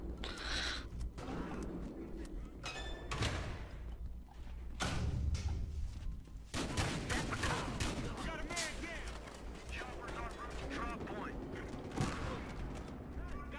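AK rifle gunfire in the video game Battlefield Hardline during a bank robbery mission, irregular sharp shots and bursts with thuds and mechanical clatter, mixed with voices talking.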